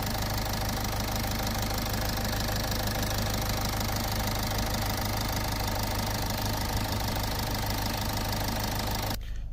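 A Toyota Etios diesel engine runs steadily after decarbonization, a continuous loud idle with a rhythmic diesel knock that holds even throughout and cuts off abruptly at the end.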